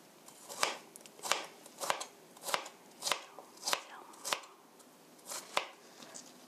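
A knife slices through pear on a board for a pear pancake, giving about ten crisp, evenly spaced cuts, close and clear, with no talking.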